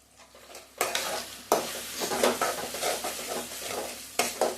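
Spices stirred and frying in a pan for egg gravy, a spoon scraping in bursts over a steady sizzle, close and moderately loud with no talking.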